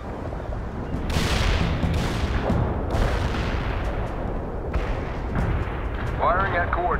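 Artillery shells fired at map coordinates in the World in Conflict video game boom heavily and repeatedly over a dense battle rumble, with short radio-style voice chatter and a brief whine near the end.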